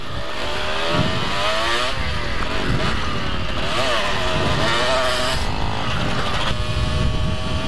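A group of mopeds rides together, engines buzzing and revving loudly and continuously with shifting pitch, recorded close as if from one of the riders, with wind rumble and a voice speaking now and then.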